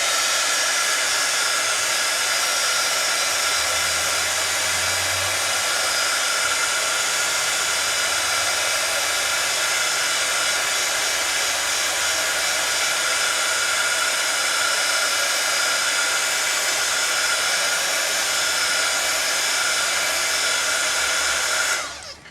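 A hair dryer blows steadily for about twenty seconds, heating a rubber stamp on a wooden block to soften its glue. The constant broadband whoosh stays close and loud, then cuts off abruptly at the end.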